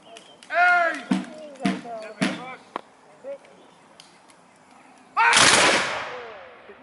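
A musket volley from a Civil War reenactors' firing line crashes out loud and close as one sharp, roaring burst that rings and fades. Voices shout and talk in the moments before it.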